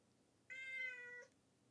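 Cartoon cat meow sound effect, one short bright high-pitched meow heard clearly and alone against a faint quiet background.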